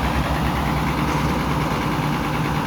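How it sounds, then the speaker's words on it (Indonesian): Front-mounted engine of a bus idling, a steady, loud low drone with constant vibration and no change in pitch throughout. "Ini mesin depan ini. Oh, bising ya."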